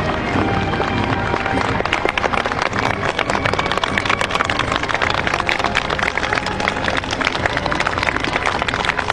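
Sustained, dense clapping from a crowd of Imperial Household Agency staff sending off the Emperor's motorcade in 1990, loud and unbroken throughout.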